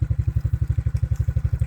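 An old 1993 quad bike, now used on a homestead to haul a water cart, idles with a loud, steady low-pitched thumping engine pulse, close by and without talk.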